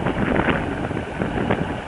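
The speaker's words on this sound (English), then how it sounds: "Getting some wind in the Venice Canal." Steady wind rushing over a sailboat's microphone on the Venice Canal, a loud, continuous buffeting roar with no talking.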